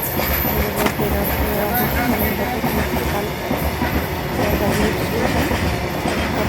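A train rumbles loudly along the rails with a constant rolling roar and occasional clacks, as heard from inside a carriage, with voices faint beneath.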